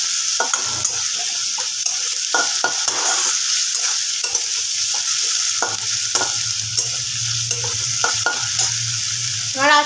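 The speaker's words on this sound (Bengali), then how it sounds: "তো পেঁয়াজটাকে আমি একটু লাল করে ভেজে নেব।" Onions fry in a pan for chicken kosha with a constant hiss, while a utensil stirs and scrapes through them in repeated strokes; close and fairly loud, with no talking.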